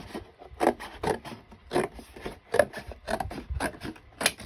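Scissors cut through cardboard for a garden journal spine, giving a run of short, close rasping snips in an irregular rhythm with no talking.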